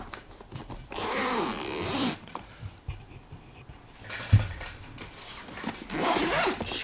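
Several close zipper pulls open an Empire Syx paintball marker case, each a quick rasping zip separated by short pauses and soft handling noises.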